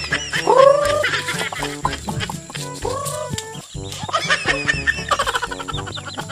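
Chickens clucking and squawking up close, a busy overlapping chorus of hen calls with a rooster-like cry, no talking.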